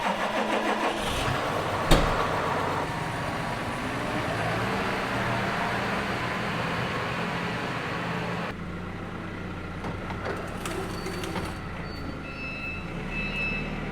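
Vehicle engines idle and rumble steadily inside a farm shop as a pickup truck and tractor are moved, a sharp knock near the start and a tonal whine later, with faint beeping toward the end and no speech.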